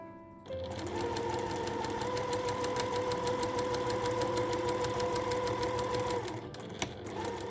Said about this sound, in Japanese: 脇から8ミリで縫います。